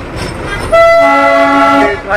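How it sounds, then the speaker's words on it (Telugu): A Darjeeling toy train's horn blows a loud, steady harmonic toot for over a second, close by, with rumbling rail noise around it. "ఇలా చాలానే వెళ్తూ ఉన్నాయి టాయ్ ట్రైన్స్"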